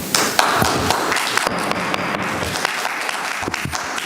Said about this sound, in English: We're not applauding or booing or any of that.